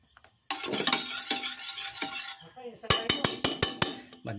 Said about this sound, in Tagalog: Magigisa muna po tayo ng sibuyas na pula, luya at bawang.